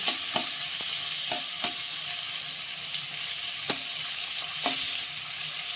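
Prawns frying in hot oil in a pan, a continuous crackling sizzle punctuated by several sharp spatula clicks and knocks against the pan, close and alone.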